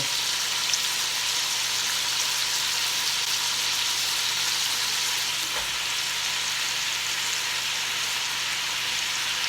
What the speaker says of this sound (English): I'm actually going to put my carrots in here now so I can start getting them a little bit softened up